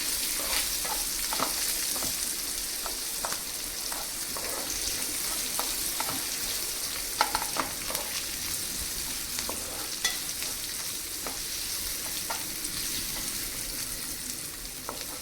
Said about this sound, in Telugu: కొంచెం రెడ్డిష్ కలర్ వచ్చేంత వరకు వేయించేద్దాం